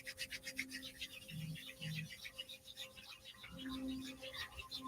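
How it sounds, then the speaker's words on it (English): Palms rub together in a rhythmic back-and-forth, soft close swishing strokes repeating steadily, with a faint background hum and tones underneath. "tune into your normal breath as you're rubbing your palms together"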